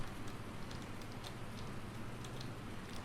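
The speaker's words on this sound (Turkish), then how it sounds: "Yağmurda ineklere besliyorum, hayvan besliyorum falan." Steady rain in Farming Simulator 19 pattering on surfaces, a continuous soft hiss with scattered light drops, no voices.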